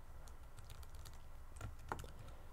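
Soft, faint keystrokes on a computer keyboard tap out an irregular run of clicks, close and quiet, with no voice.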